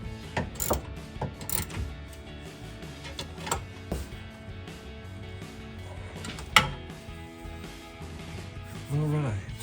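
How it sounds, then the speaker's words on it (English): Ratchet with a 15mm socket tightening bolts on the extending arm of an Amp Research BedStep on a 2021-2023 Ford F-150, giving close clicking ratchet sweeps and metallic taps in short bursts. "Next step is to tighten down the bolts on the top of the extending arm. For that, I'm using a 15mm socket."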